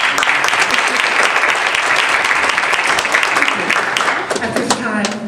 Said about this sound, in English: give applause to the gentleman